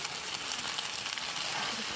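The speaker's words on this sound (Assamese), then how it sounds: "মই এতিয়া মেগী দিবলৈ আৰম্ভ কৰিছোঁ" Boiled Maggi noodles are tipped into a hot frying pan with egg and give a loud, continuous, close sizzle with no pauses.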